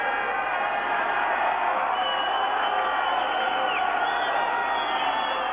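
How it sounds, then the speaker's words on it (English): Football stadium crowd at Latvia v Spain in a 1994 World Cup qualifier, a loud, steady roar of many voices with bursts of cheering, distant and continuous. "the crowd certainly making plenty of noise and hoping they can lift their side to what would be a famous victory"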